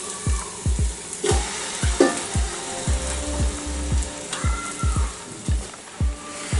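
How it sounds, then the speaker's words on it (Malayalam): Masala-marinated chicken fries in a pan for biryani, a low sizzle broken by regular soft thumps and scrapes, about a dozen evenly spaced, close and moderately loud. "ഇനി നമുക്കിതിലേക്ക് ചിക്കനാണ് ചേർത്ത് കൊടുക്കേണ്ടത്."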